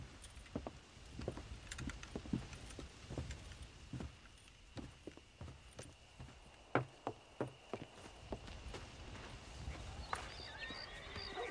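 Horse hooves clip-clop in a steady walking rhythm in the video game Red Dead Redemption, close and fairly quiet, with a faint jingle of tack and a soft distant sound near the end.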